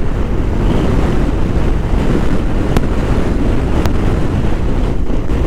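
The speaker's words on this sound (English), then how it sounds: "we're still traveling against the wind at the moment, and it's terrible" Strong wind roars across the microphone while riding into the wind through the Mauritanian desert in extreme heat, a loud, constant buffeting rush with no voices.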